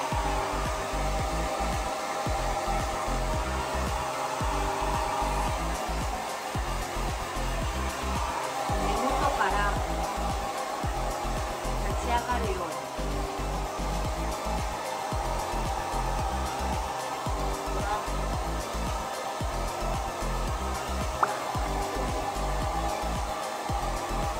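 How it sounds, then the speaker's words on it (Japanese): A hair dryer blows on hair during styling, a loud, steady whooshing whir that runs unbroken throughout, with faint rubbing and small shifts in tone. "私はドライヤー使ってますここからちょっと音うるさくなりますが まずちょっとセット乾かします"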